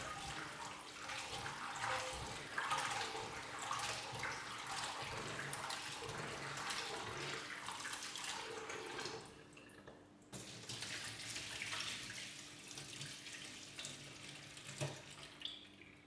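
Cocoyam being washed in water: continuous splashing and sloshing, with a brief pause near the middle, close and fairly quiet, with no voices.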